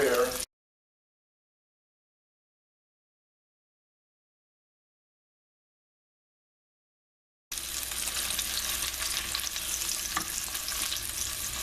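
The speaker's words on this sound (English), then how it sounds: "Between the shrimps cooking, the lobster stock boiling." Shrimp sizzles and bubbles in a pot with sauce and lobster stock on the stove, a close steady frying hiss that begins after a long silence and runs continuously, with no speech.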